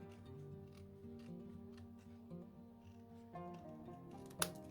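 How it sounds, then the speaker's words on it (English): Scissors cut through a dollar-store note pad up close. Quiet, uneven snips and paper rustling repeat, ending in one sharp, louder click. "So I'm just going to carefully cut down the center."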